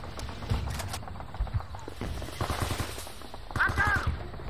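Gunfire in the Men of Valor video game: repeated rapid bursts of shots, some close and punchy, others more distant, with explosive cracks and a brief whistling whine near the end.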